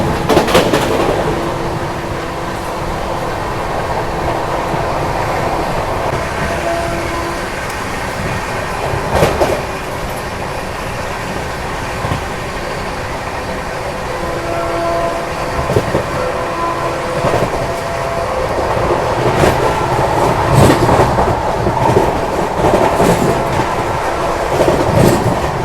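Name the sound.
Duronto Express train running at 130 km/h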